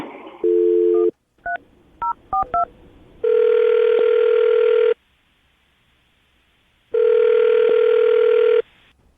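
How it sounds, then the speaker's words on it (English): A telephone line opens with a dial tone, then a short run of touch-tone dialing beeps follows. Two long, loud ringback tones come next, separated by a silent gap, with no voices. "I'm going to dial the phone number, see if we can get her on the phone"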